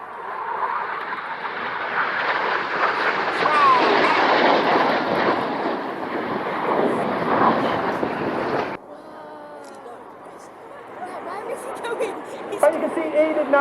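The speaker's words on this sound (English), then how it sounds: "they have a closing speed of over 800 miles per hour. Once again, get your cameras ready for the Hannah pass" Roaring jet noise of aerobatic jets making a close crossing pass at the RAF Cosford Air Show 2024, a loud sustained rush that swells then cuts off sharply, followed by crowd chatter and an announcer speaking over the field.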